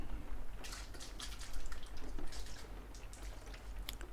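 Close, intimate hand moisturizing spray sprayed in several short misty bursts over quiet background, no talk.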